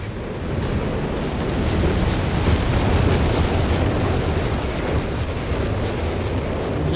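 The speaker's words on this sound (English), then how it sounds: "Another massive barrage" An artillery barrage in Company of Heroes 3 rumbles as a loud, continuous roar of overlapping explosions, heavy and booming with no talk.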